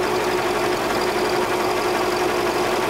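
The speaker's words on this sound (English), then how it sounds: "with the engine running, in this case the engine is cold" A cold Mercedes-Benz engine idles steadily with the hood open, a constant close mechanical hum with a faint ticking knock and no speech.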